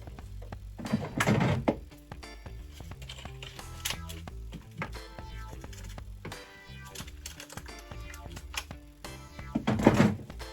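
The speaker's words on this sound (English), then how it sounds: "Let me just add 2 more cubes." Two ice cubes dropped into a Mr. Coffee iced coffee maker, heard as two clattering, rattling impacts, one near the start and one at the end, with soft handling knocks in between.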